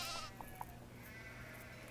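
Sheep in the Nancy Drew game The Haunting of Castle Malloy, a faint, thin bleat heard early against a steady low background hum, with no other animals joining.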